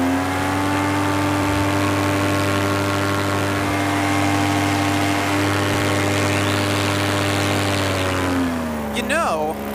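A light aircraft engine fitted with a new propeller roars at full throttle, a loud steady drone with strong harmonics, then the pitch sags and a voice cuts in near the end.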